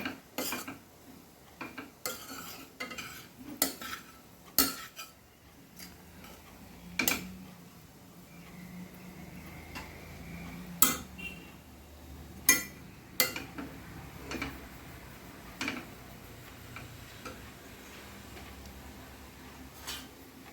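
Kothu parotta being tossed and mixed with masala on a pan, sharp irregular metallic clicks and scrapes of utensils, sparse and close, with quiet gaps between strikes.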